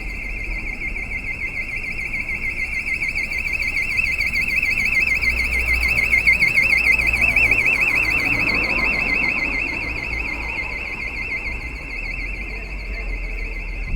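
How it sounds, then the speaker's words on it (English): An alarm ringing on Wexford Street in Dublin, a loud continuous warbling electronic tone that holds for the whole stretch, with street noise underneath. "Sorry about the alarm."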